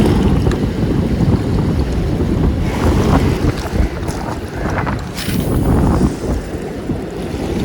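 Strong wind buffets the microphone with a loud, continuous rumble while a fishing line is cast with a light 10-gram weight near water, and the gusts rise and fall.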